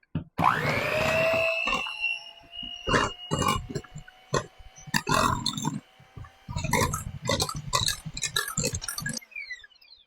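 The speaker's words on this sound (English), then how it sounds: "I'm just going to blend around" An electric mixer blends strawberry cake batter with vegetable oil, giving a steady motor whine broken by repeated clinks and clatters of the beaters against the bowl.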